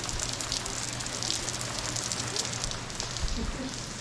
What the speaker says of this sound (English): Thank you for giving me some shelter out of the rain. It's coming down.